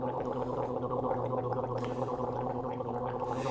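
Someone gargling Listerine mouthwash, a steady bubbling gurgle sustained close to the mic for several seconds with no talking.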